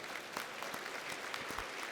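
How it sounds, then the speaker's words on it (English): A gala audience at an annual Evening of Aloha event gives steady, dense applause, with many hands clapping continuously in a full room and no talking over it. "Well, let's give them a big round of applause."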